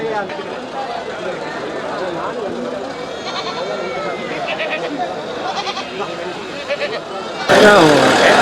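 Goats bleat repeatedly at a busy rural goat market, their wavering cries mixing with crowd chatter and steady background noise, with a louder burst of commotion near the end.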